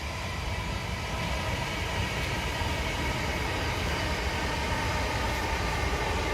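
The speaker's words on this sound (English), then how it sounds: "And the train's going by, so I'm not going to talk." A train rumbles past continuously at close range, with a steady broadband roar of wheels and rail noise that stays loud and even throughout, no voices over it.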